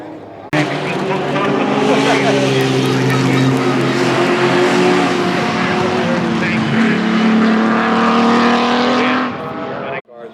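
Vintage race cars roar around a track at a vintage grand prix, a loud continuous engine drone with shifting pitch as several cars pass close by for about nine seconds, then cut off abruptly.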